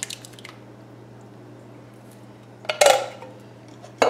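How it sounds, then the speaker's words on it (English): Tomato sauce and fire-roasted tomatoes go into a crock pot of vegan 16-bean chili, making a brief wet squelch and clatter of a can or spoon against the pot near the end, after a quiet stretch with a steady background hum. "And so now I'm going to add my tomato sauce. And my fire roasted tomatoes."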